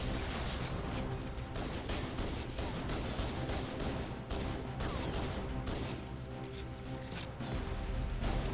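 Gunfire and plasma grenade blasts from the Halo CE video game on the Pillar of Autumn mission crackle in rapid, dense bursts, with sharp repeated shots layered over a constant battle din.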